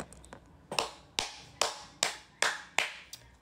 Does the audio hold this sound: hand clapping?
yes